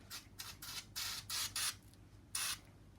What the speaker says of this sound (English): This is the spray silicone. Okay, I'm spraying from far.